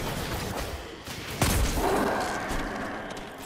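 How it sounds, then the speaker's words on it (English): An explosion in the video game Destiny lands as a sharp, fairly faint boom with a brief rumbling tail over low game ambience. "Man, that explosion doesn't trigger outlaw."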